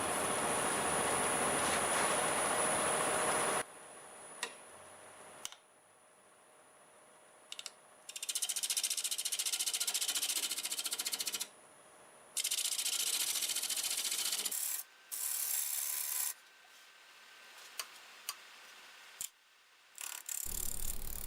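A half-inch bowl gouge cuts a wooden bowl made from a board, with a padauk disc at its base, spinning on a lathe at about 800 RPM. Harsh scraping bursts come in repeated passes, broken by quieter gaps of motor hum.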